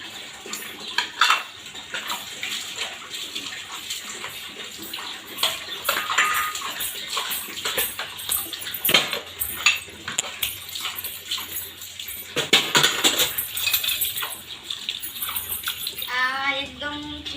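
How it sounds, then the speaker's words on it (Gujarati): Greasy dishes, pots and pans coated in ghee are scrubbed and washed, with running water, repeated clinks and clatters of metal utensils, and voices talking in the background. "એટલા વાસણ તો મેં ઉટકી પણ લીધા અને હજુ પણ ઉટકવાના છે"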